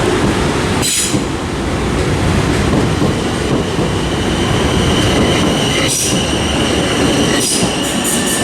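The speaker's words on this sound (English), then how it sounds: "Southwestern Railway service to Southampton" A South Western Railway train at Southampton Central station, a loud, steady rumble with squealing wheels and rhythmic clicks from passing carriages, close by and continuous with no talk.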